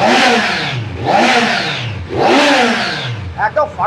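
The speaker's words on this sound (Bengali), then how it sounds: "এর আওয়াজটা 2 সিলিন্ডার ইঞ্জিন, ওটা 4 সিলিন্ডার" A second-hand two-cylinder superbike engine revs three times close up, each blip swelling and falling back, followed by brief choppy throttle pulses at the end.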